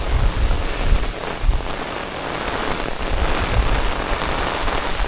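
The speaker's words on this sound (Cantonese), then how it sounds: "咁大雨突然之間" Sudden heavy rain pours onto the Hong Kong Trail Section 6 near Tai Tam, a dense, steady roar of drops on the surrounding surfaces with no voices.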